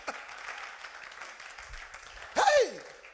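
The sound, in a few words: congregation cheering and applauding for Jesus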